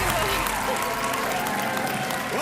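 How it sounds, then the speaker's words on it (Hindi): Studio audience applause on the Hindi quiz show KBC after a contestant wins, a dense, continuous roar of clapping that fills the whole stretch, loud and even, with a crowd murmur underneath. "ताली बजती रहनी चाहिए गुंजन के लिए।"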